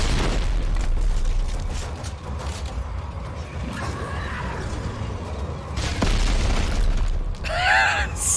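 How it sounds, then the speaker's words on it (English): A game explosion in the sci-fi horror shooter Dead Space 3: Awakened lands amid a dense, rumbling in-game mix, with loud broadband bursts near the six-second mark and a brief high sweeping whine near the end. "Explosion there."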